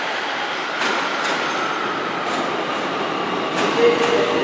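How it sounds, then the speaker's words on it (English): A commuter train from Gourock rolls into Glasgow Central station with a steady mechanical hum and rumble, rhythmic clicks from the wheels and a faint squeal as it slows. "Here comes the Gorrock train, well,"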